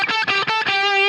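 An electric guitar run through amp distortion on a Line 6 Helix plays a few quick picked notes, then settles into a sustained, compressed, buzzing tone that rings out loudly on its own.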